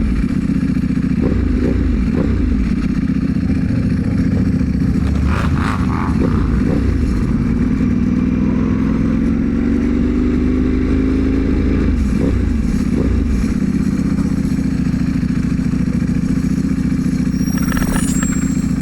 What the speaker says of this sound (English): Got a bunch of bikes out there.